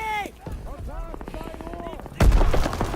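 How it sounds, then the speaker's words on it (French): A grenade exploding inside a bunker in a WWII video game, a sudden heavy boom with rumbling gunfire after it, cutting in over tonal game sounds and voices talking. "Daniel, lance une grenade dans ce bunker."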